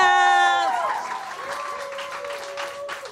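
A crowd claps steadily after a live music performance, while a sustained harmonic tone glides downward and fades near the start and a faint hum lingers underneath.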